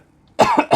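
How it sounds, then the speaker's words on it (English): One sharp, close cough bursts out after a quiet moment, quickly followed by a second shorter cough, loud and harsh against near silence. "Coughing up a storm here."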